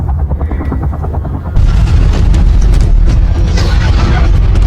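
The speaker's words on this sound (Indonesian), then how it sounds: "Tidak lama terdengar suara helikopter" A helicopter's rhythmic rotor thumping, then a sudden louder, denser roar of blades and engine close overhead, continuing to the end.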